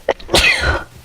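A single sharp sneeze, with a brief intake and then a loud, breathy burst, close and alone, with no talking around it.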